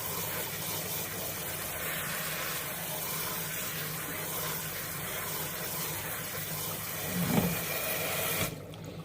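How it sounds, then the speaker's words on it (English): Hot water runs steadily from a tap into a sink to rinse textured vegetable protein, a constant splashing rush with a small clatter near the end before it cuts off. "add hot water to it. You want to rinse it all out."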